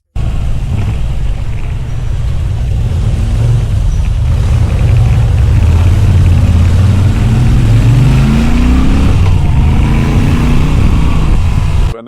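A motorcycle riding fast, picked up by an Insta360 X5 camera mount: constant loud engine roar mixed with heavy wind buffeting, a shift in pitch near the end, no voices.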